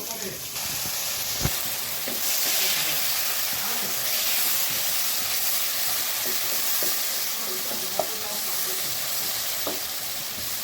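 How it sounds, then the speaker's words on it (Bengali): A garlic, turmeric, chili and salt spice paste sautés for rui fish, with a steady, loud sizzle and hiss under a few sharp clicks and scrapes of stirring. "রসুন বাটা হলুদ মরিচ লবণ সব কিছু দিয়ে মশলাটা কষিয়ে নিই"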